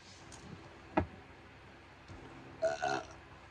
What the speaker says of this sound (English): I don't hold my burps. I let them flow.